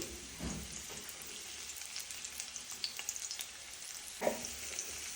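Bitter gourd slices fry in coconut oil for a masala roast, giving a steady close sizzle with soft crackles and a couple of louder stirring scrapes, no talking.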